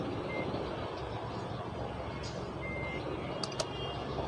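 Faint reversing beeps from a truck in a Vietnam bus simulator game, a few brief tones sitting over a constant engine drone.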